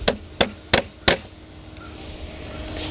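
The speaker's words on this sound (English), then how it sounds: "Take your hammer and tap flush." A hammer taps a quarter-inch carriage bolt flush into the wooden arm of an Adirondack chair, four sharp close strikes in quick succession, followed by quiet room noise.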